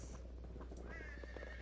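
A horse whinnies in the fantasy role-playing game Sacred, a rising, wavering call over a steady background hum, with faint hoof clatter beneath; no one speaks.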